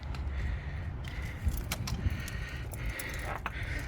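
A steering wheel lock on an Audi A4 B6 rattles and clunks as the wheel is shaken, metallic jangling with a couple of sharper knocks, close by inside the car.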